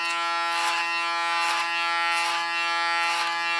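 Electric hair clippers hum steadily and close by, with a raspy burst every three-quarters of a second or so as the blades cut through hair.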